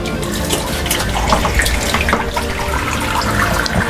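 After the pump motor is switched on, water rushes out of an outdoor fish tank as it drains. The gushing, splashing flow is loud and steady, sounds close by, and no one speaks over it.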